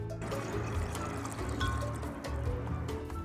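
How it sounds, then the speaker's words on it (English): Lemon juice, four cups of it, pouring into a pitcher while a batch of moonlight punch is being made, a steady continuous liquid splash and gurgle lasting throughout at moderate loudness. "gonna pour 4 cups of lemon juice into this pitcher"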